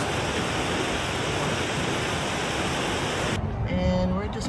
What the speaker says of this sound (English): Just passing by Multnomah Falls. That's the one right there.